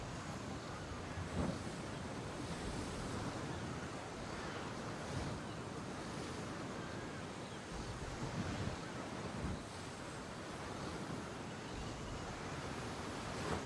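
Steady ocean waves and wind rush continuously while sailing a ship in Assassin's Creed Odyssey, a broad, even wash of surf with no talk.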